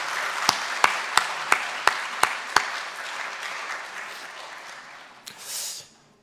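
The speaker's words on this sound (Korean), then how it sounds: "우리 박수로 환영하겠습니다" A church congregation claps to welcome guests at a Sunday morning service: a slow, evenly spaced run of about eight sharp claps, then a softer wash of applause that fades, with a brief burst near the end.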